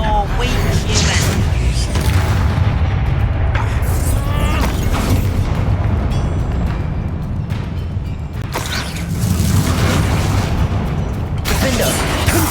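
Confringo fire spells burst during a Hogwarts Legacy combat fight, with loud booming blasts and mechanical creaks and pops layered over continuous game music and effects.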